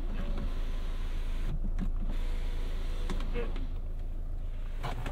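The electric sunroof of a 2015 Chevrolet Cruze Diesel opens with a low, steady motor whir inside the cabin, broken by a few faint clicks and knocks.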